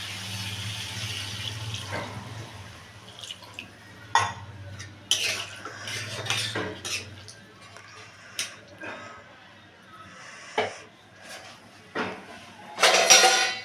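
Water is poured into a pan of browned eggs for an egg curry, giving intermittent splashing bursts of liquid with quieter gaps, ending in a louder gush.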